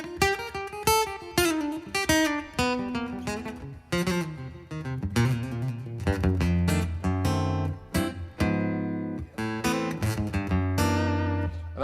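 Electric guitar played through a Fishman Pro EQ Mini pedal switched on, a clean, close phrase of single notes and chords with bright attacks and ringing sustain, no talking.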